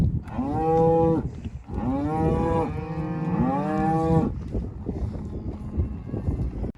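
Cattle on a dairy farm mooing loudly and close, three long drawn-out calls in quick succession, then a quieter stretch of shuffling and background noise.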